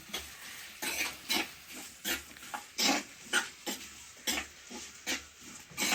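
Onions, about half a kilo, salted and sautéing in a clay pot for a village Kerala beef curry, give a soft sizzle punctuated by regular scraping strokes of a stirring spoon, close and quiet, with no voices.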